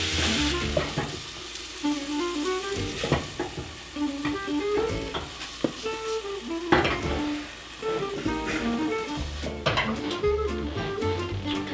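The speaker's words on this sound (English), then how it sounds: "And we're gonna give it a stir, cover it up," Pork fried rice sizzles steadily in a pan while being stirred, with repeated clinks and scrapes of a utensil against the pan, plus a background of music-like tonal notes throughout.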